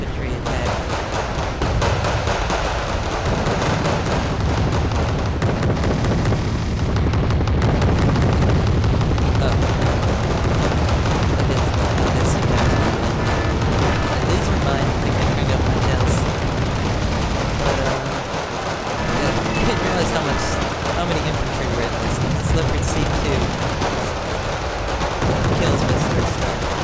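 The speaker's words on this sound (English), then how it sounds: "we had this twin 37mm. And we're just pounding away at their infantry while my infantry attack." Twin 37mm anti-aircraft guns pound away at infantry in the Wargame Red Dragon battle game, a dense, continuous barrage of heavy gunfire and booms filling the whole stretch with little letup.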